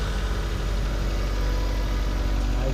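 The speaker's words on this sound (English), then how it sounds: "Turn the car on." A 1996 Toyota Corolla with a cylinder 1 misfire and new Denso plug wires and spark plugs idles steadily up close, giving a constant, even engine drone with no revving.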